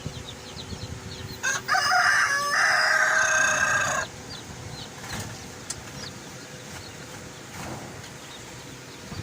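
Australorp chickens in a poultry shed give a loud rooster crow lasting a couple of seconds, then scattered soft clucks and shed noise continue at a moderate distance.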